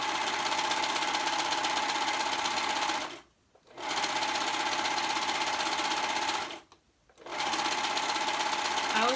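A serger running close and loud as outer and inner dress pieces are sewn together, a steady buzzing whir that stops twice for brief pauses before starting up again, with no voice over it.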